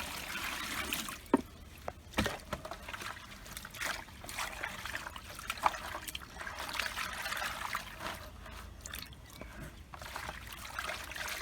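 Water trickling and splashing as 5 liters are poured into a container for a panchagavya mix, a soft continuous dribble with a few louder clunks near the start.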